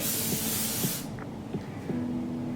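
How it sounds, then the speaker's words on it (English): Hair spray hisses in one close, steady burst lasting about a second while feathered hair layers are styled, followed by quieter handling and faint rustles. "as you feather them down, spray it"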